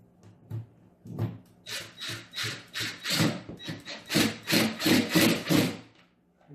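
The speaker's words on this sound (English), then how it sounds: "Go ahead and insert your screw." An H6 screw is turned by hand into a pre-drilled hole in wooden furniture during assembly. Rhythmic creaking and rasping strokes repeat close up, growing steadier and louder as the screw bites deeper.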